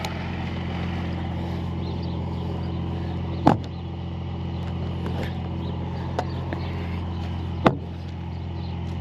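A Chevrolet C30 truck's engine drones steadily at low pitch while dragging the vehicle forward onto a trailer outdoors, with two sharp clanks standing out near the middle and end.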